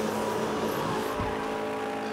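Car drifting around a corner in the racing game Asphalt 9 Legends, engine roar running steadily throughout with a brief tire squeal mid-slide, loud and close, no voices.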